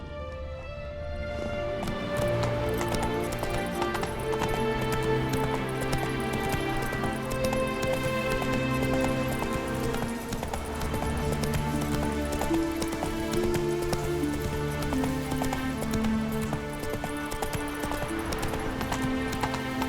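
Roach, a horse in The Witcher 3, gallops with steady, rhythmic hoofbeats that carry on throughout against a continuous musical score, and there is no talking.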